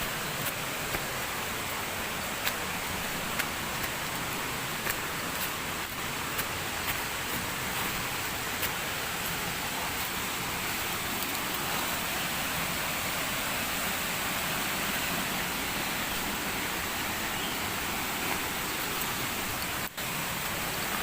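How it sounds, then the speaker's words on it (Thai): Rushing water from a waterfall in a forest, a steady, dense broadband roar that fills the whole stretch evenly and continuously, with no voices over it. "เป็นน้ำตกที่เลี้ยงง่ายนะครับ ก็อยู่ในป่า"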